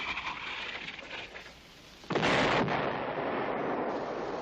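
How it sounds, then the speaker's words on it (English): Artillery searching fire in a 1965 war drama, a low rumbling barrage that swells abruptly into a loud, sustained roar of blasts and debris noise, with no voices. "Sounds like searching fire. They're looking for us."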